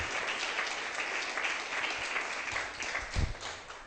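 Congregation applauding during a church sermon, a steady wash of many hands clapping at moderate distance, continuous for several seconds with a few louder claps near the end.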